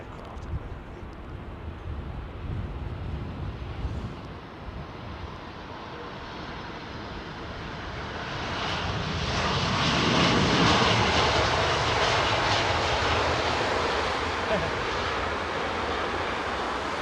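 An aircraft arriving on runway 27R at London Heathrow Airport builds from a distant rumble into a loud, broad engine roar as it passes close overhead, then holds a steady roar against background wind.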